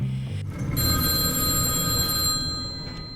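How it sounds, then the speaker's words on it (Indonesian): A telephone bell rings steadily with a bright electronic trill, pausing briefly and resuming, over a low background hum. "Di pagi hari, narator menerima telepon dari Marla"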